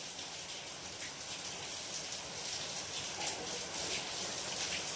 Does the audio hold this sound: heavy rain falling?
yes